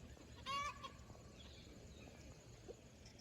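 A hen, upset that a boarded-up fence keeps her from laying eggs on the other side, gives one brief, fairly faint squawking cluck over quiet outdoor background noise.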